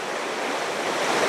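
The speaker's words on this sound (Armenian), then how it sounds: "գետը շատացել է" A river swollen by spring rain rushes past in a steady, loud, broadband roar with no pauses and no voices, like continuous churning water close by.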